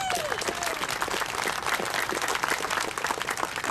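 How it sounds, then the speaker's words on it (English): A crowd applauds steadily at an outdoor Vietnam Moving Wall memorial event, a dense patter of many hands clapping at moderate distance, continuing evenly throughout. "Let's give them a round of applause."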